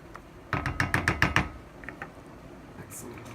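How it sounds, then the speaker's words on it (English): A spoon knocks and scrapes through pasta, beans and bacon in a pot, a quick run of six or so close rhythmic clacks followed by a few softer taps. "I'll give that a stir."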